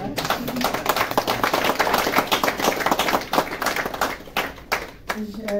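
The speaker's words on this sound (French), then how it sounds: "Veuillez bien applaudir encore une fois." Applause from an audience at a gathering of the Beninese community in France honoring the ambassador, dense clapping filling the room at steady loudness, with some voices mixed in underneath.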